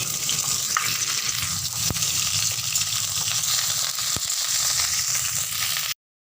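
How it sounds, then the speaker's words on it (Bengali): Cauliflower frying in oil in a wok on a gas stove gives a constant dense sizzle, with a couple of sharp knocks from a utensil, then sudden silence at the end. "আমি গ্যাসে কড়াই বেরো তাতে তেল দিয়েছি দিয়ে এবার সব ফুলকপিগুলো ভেজে নেব"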